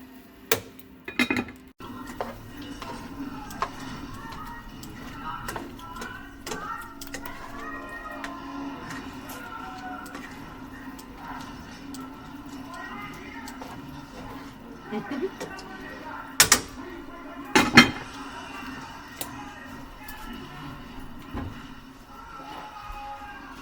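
Philly cheesesteak meat being stirred in a pan gives intermittent scraping and clinking of a utensil against the pan, with a few sharp knocks, moderately close under a soft background hum.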